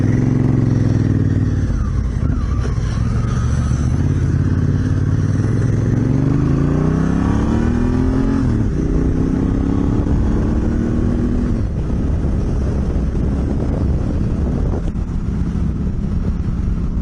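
Motorcycles pulling away on an Australian road trip, loud engine rising and falling through gear changes with heavy wind buffeting across the microphone, continuous and close.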